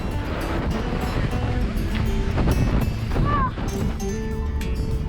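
Strong wind at the summit of a glacier in New Zealand buffets the microphone in a loud, continuous roar and rumble, with short gusting surges. Voices can be heard faintly beneath it.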